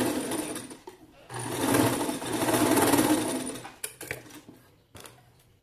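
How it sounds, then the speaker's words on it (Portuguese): A sewing machine stitches a seam closed on a semi-cropped blouse with flared sleeves, whirring steadily in two longer runs with short pauses, then a few brief stop-start bursts near the end. "nós vamos passar a costura, tá? Pra fechar."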